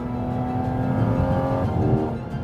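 A 2023 Porsche 718 Cayman GT4 RS with a 4-litre flat-six taken from the 911 GT3 Cup car revs hard, a loud sustained engine drone with steady harmonics and a slight pitch change, no talk over it.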